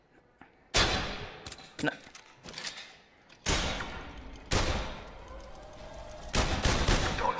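Gunshots at a shooting range in PlayStation VR Worlds, several sharp, loud single shots spaced irregularly with game sounds in between and a brief spoken word.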